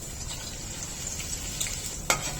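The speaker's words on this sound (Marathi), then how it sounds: "मिरच्या तेलामध्ये चांगल्या खरपूस होईपर्यंत तळून घ्यायच्या आहेत" Finely chopped hot green chilies frying in oil for a corn poha chivda, a soft even sizzle close by, ending with a brief metallic clink of a utensil.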